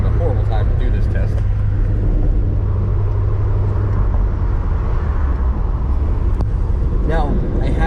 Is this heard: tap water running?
no